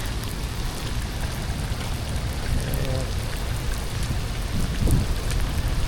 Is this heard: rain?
yes